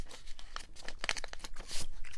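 Paper folded to make a ddakji, with close, crisp crinkles and creases in quick bursts, sharper crunching near the end and no voices.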